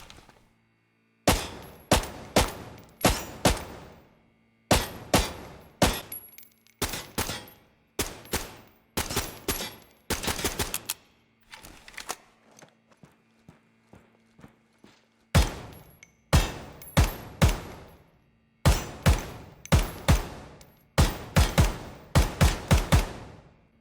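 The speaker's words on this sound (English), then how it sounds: "I want you to listen to the actual audio of the firearms themselves" Gunfire from new firearms on a shooting range in the video game Ground Branch: loud, close shots in quick bursts and rapid strings, separated by short pauses, with no talking.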